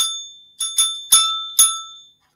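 A small hand bell, like a bicycle bell, rings four times in quick succession, each bright metallic ding close and clear before fading.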